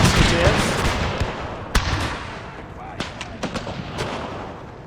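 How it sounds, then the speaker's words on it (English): Volleys of gunfire and cannon booms from gunners in a Total War battle set in the Thirty Years War, with one sharp crack standing out and a cluster of shots near the end over a dense, continuous battle din. "I'm just gonna order the gunners to end what's left of the Dutch mercenary musketeers"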